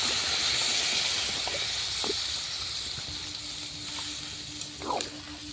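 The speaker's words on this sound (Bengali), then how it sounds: "মাংসটা সেদ্ধ হওয়ার জন্যে অল্প দেবো পানি" Soft hissing sizzle from a hot pan after water is added to frying beef, cooked on a clay stove, steady and fairly quiet, with a few faint clinks.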